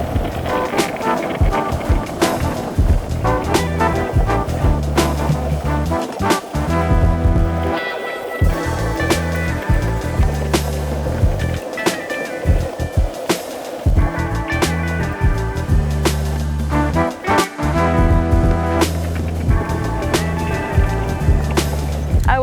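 Wheels of a Waikiki longboard-style skateboard roll and rumble continuously down a hill, with rhythmic clacks and scrapes as the rider carves wide turns and cross-steps, loud and close throughout.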